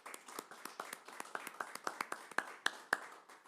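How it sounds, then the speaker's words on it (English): Scattered clapping from a small audience at a chamber of commerce candidate forum for the Kansas State House, with individual hand claps standing out, fairly close and moderately loud, building slightly and then thinning out. "I hope our audience members will give both candidates a round of applause."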